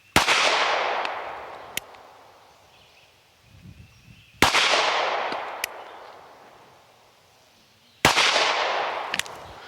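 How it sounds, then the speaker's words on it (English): Three sharp, loud pistol shots fired at about 12.5 yards from a handgun fitted with a HEX Wasp red dot, spaced roughly four seconds apart outdoors, each with a long fading echo and no talk. "All right, 3 shots"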